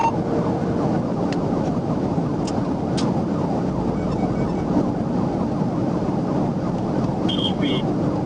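A police car siren wails over heavy road and engine noise during a high-speed chase, with voices talking over it throughout.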